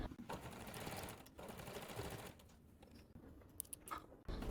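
A sewing machine stitches along the side edges of folded fabric for a curtain tie, with a steady close whirring run, a short pause, and then lighter intermittent stitching and clicks.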